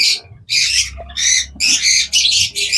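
Lovebirds and sun conures at a bird farm give loud, harsh squawks in repeated bursts, several overlapping calls close by with short gaps between them.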